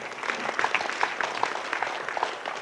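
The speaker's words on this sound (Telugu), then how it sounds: "గట్టిగా చప్పట్లు కొడదాం వారికి." An audience at a meditation gathering bursts into steady, dense applause, many hands clapping together at close range for a few seconds with no voices over it.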